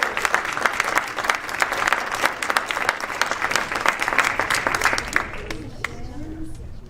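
Sustained applause from an audience at a council meeting after a children's film award is presented; dense, steady clapping that tapers near the end.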